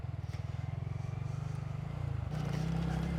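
A tiny motorbike ridden along an Elan Valley byway, its small engine putting out a steady throbbing buzz close by that shifts pitch as the revs change near the end.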